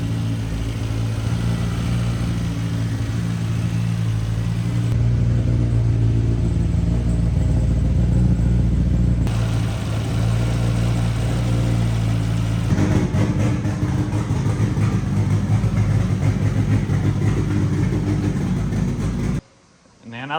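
A billet Honda K-series engine runs in a workshop, a steady loud low idle drone with shifting tone that carries on for most of the stretch before cutting out abruptly near the end.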